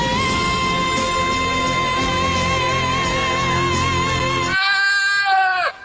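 A singing goat gives a loud, sustained, tuneful bleat with rich wavering harmonics, held for about five seconds and then cut off abruptly.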